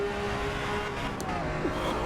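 A race car engine in Assetto Corsa EVO holds a steady, strained drone with a faint tire squeal, heard close and continuous for a couple of seconds.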